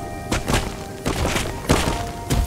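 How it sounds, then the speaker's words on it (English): Hail thudding down in the survival video game Rust, a run of dull, hard thumps arriving in loose clusters about every half second to second, fairly loud and close with no talk over it. "Just hail."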